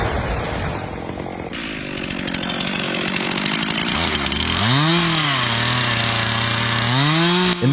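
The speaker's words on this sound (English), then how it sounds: "The chainsaw roared, the blade cutting through the moldy bark." A chainsaw roars loudly and close while cutting into a large moss-covered tree trunk in a damp jungle. The engine revs up and down repeatedly in a rising and falling snarl as the chain bites into the wood.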